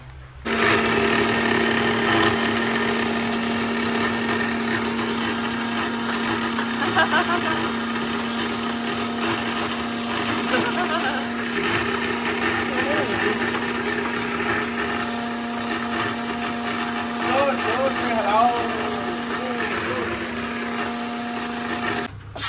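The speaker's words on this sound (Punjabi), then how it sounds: "ਹੁਣ ਆਪਾਂ ਇਹਨੂੰ ਪੀਸੀਏ ਮਖਾਣਿਆਂ ਨੂੰ ਚੰਗੀ ਤਰ੍ਹਾਂ ਮਿਕਸੀ ਦੇ ਵਿੱਚ" A mixer grinder grinds roasted fox nuts (makhana) with a loud, steady motor whir that runs unbroken for over twenty seconds, the pitch wavering slightly as the contents churn.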